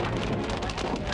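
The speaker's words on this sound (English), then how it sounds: "The rain and hail pick up again." Heavy storm rain, with hail mixed in, beats down as a dense, steady roar that fills the whole clip, heard close from a vehicle on a tornado chase.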